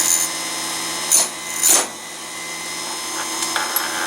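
Electric chainsaw sharpener grinding a chainsaw chain clamped on the bar, a steady motor whine broken by two short, harsher grinding bursts as the wheel bites, then a quieter running hum.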